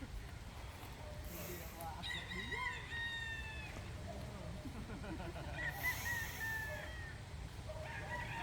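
Several young roosters crow in turn, two clear calls standing out over a farmyard background, with someone talking throughout.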